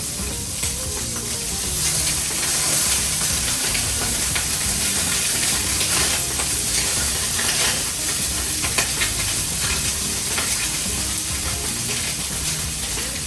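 Duck breast skin sears hard in a hot pan, a steady close crackling sizzle and hiss running throughout with scattered sharper pops, no voices.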